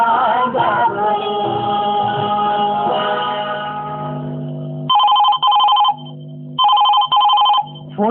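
A telephone rings in bursts of repeated electronic rings on a radio phone-in program of Chhattisgarhi songs from Akashvani Raipur, coming in after a fading tail of music, loud and clear with short pauses between ring pairs.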